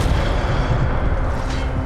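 A Protego shield spell in Hogwarts Legacy sounds as a deep, rumbling boom that holds steady and loud for a short stretch, with a faint brighter shimmer flickering in near the end.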